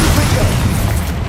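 A fire spell explodes in Hogwarts Legacy as a short, loud, dense burst of booming blast noise filling the whole moment.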